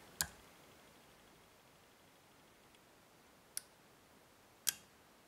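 Three sharp, faint metallic clicks ring out while a pin is picked inside a Tesa TX70 dimple lock, spaced irregularly over a quiet hiss.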